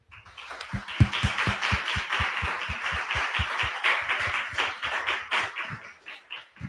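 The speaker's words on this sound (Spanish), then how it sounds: "les pido un fuerte aplauso para recibir a Patricia Vega" An audience claps steadily to welcome journalist Patricia Vega at an interview event on journalism techniques, with sharp close claps standing out over a sustained round of applause that tapers near the end.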